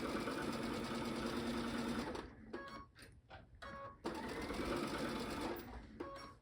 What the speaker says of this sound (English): Line them up and sew your 1/4 inch seam.